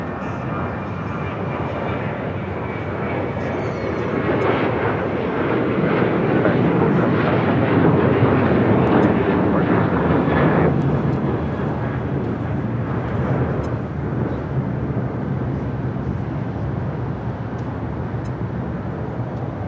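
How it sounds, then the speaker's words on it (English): An American Airlines Boeing 737-800 jet departs Los Angeles airport, its engine roar building to a loud, rumbling peak, then easing abruptly and trailing off into a steadier distant drone, with no talking over it. "That was American Airlines Flight 475 heading to Chicago O'Hare, 737-800"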